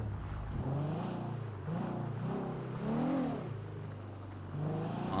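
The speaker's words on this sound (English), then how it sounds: "My car won't turn off." A video game car engine drones steadily with rising and falling revs, fairly close and continuous, idling and revving after glitching so it won't turn off, with no one speaking.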